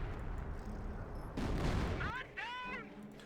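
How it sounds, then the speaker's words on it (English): A howitzer in Company of Heroes 1 shells a base with a deep, rumbling impact in the middle, heard beneath a commentator's continuous talk. "that is straight up a howitzer engaging the base, trying to destroy the Panzer Command"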